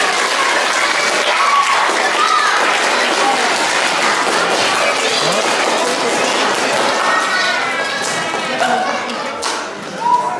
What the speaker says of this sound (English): Let's give a round of applause if that's an awesome answer.